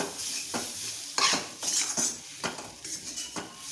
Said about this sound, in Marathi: असं आता हलवत राहायचं सारखं